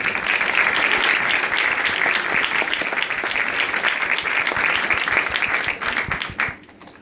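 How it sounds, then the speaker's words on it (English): Sustained applause from an audience at a sickle cell awareness event, many hands clapping in a thick, even roar that tapers off and fades out at the very end. "I want us to have a round of applause for Sienna King"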